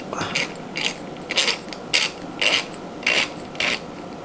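The adjustment screw on a Timemore C5 hand coffee grinder is turned tight, giving a series of about nine short, regular raspy clicking ratchets close up, with no talking.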